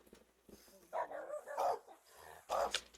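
Dogs at a house bark during a police search for suspects: three or four separate barks and yips, fairly distant and soft, with quiet gaps between them.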